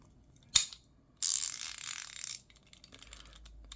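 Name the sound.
socket wrench ratchet clicking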